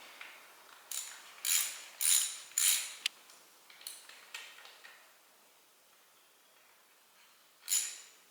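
Oil filter cover bolts on a 2021 KTM 690 Enduro R motorcycle are tightened by hand with a ratchet, giving a series of short, close metallic clicking bursts separated by pauses, quiet and without talk.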